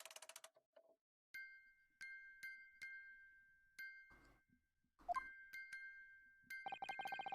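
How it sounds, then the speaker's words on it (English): Music box chiming in The Great Ace Attorney video game: a run of bright, ringing tonal strikes with lingering sustained notes, spaced in an uneven rhythm, with a dense cluster of tinkling notes at the end. "Just what relevance do you propose this woeful chiming has on this case?"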